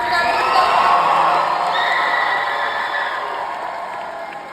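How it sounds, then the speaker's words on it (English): A graduation audience in New Orleans cheers and whoops loudly, a dense crowd roar with children's shouts that swells early and then slowly fades. "Let's cheer it up."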